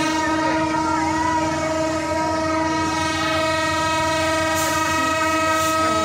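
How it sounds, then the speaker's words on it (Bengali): Chitra Express pulling away from Mirzapur station, a long sustained horn blaring loud and close over the rumble and clatter of rolling coaches, with a brief higher whistle near the end. "এটা চিত্রা এক্সপ্রেস বর্তমানে ছেড়ে দিল।"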